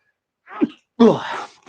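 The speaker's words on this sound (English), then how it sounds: "I'm going to sneeze." A short intake of breath followed by a single loud, close sneeze.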